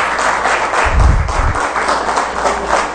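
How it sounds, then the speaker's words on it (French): A crowd applauds tennis champion Naomi Osaka at a welcome ceremony in Haiti, producing a dense, steady wash of clapping that holds throughout, with a brief low thump near the start. "je vous demande à grand cœur d'applaudir une grande championne, Madame Naomi Osaka"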